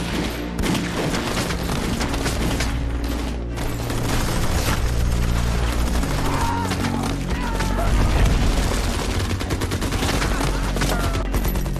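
Dense bursts of gunfire crackle through a film battle scene at a city gate, rapid automatic volleys and booms loud and continuous over a rumbling soundtrack.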